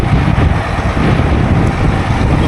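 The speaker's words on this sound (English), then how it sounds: "it's real windy now" Strong, dusty wind on a farm field buffets the microphone with a constant low roar and rumble, loud and steady throughout.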